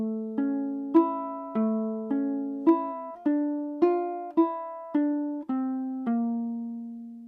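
Single plucked ukulele notes ring out one after another in a slow, gentle melody, each decaying before the next, clear and close with no voices.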